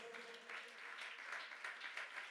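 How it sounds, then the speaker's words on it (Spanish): A church congregation claps together in a continuous round of applause, steady and fairly distant, with a few louder bursts of clapping toward the end. "Dele ese aplauso a Dios un momento"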